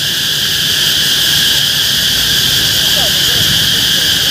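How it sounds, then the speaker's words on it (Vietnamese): Cicadas in a Vietnamese city in summer drone in a loud, continuous, high-pitched buzz that stays steady throughout without a break. "các bạn nghe tiếng ve kêu nhức hết cả đầu luôn"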